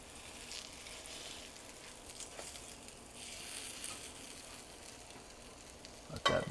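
French toast frying in butter in a pan gives a steady, fairly quiet sizzle throughout, ending with a brief louder clatter.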